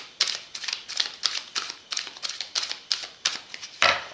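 Oracle des miroirs cards are shuffled by hand in repeated quick riffling bursts, about eight crisp papery flurries in an even rhythm, close up and alone.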